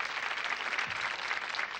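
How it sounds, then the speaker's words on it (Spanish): Studio audience applause on a 1986 Saturday variety TV show, a steady dense wash of clapping that holds at an even level throughout, with no speech over it. "aplauso para la señora"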